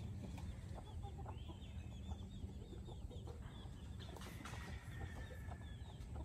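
Silkie hens with their chicks out foraging, clucking softly and repeatedly amid a steady noisy outdoor background, with faint higher peeps scattered through.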